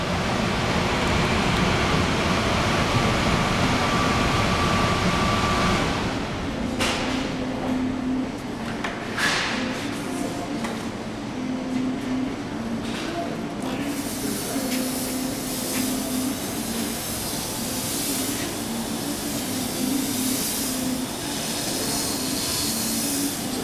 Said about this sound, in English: now I'm going to go ahead and fill the booth up with some smoke, some theatrical smoke